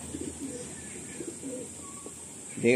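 An Andhra breed male pigeon coos softly nearby in short, low, rolling bursts, faint against a quiet background, with a louder rustle right at the end.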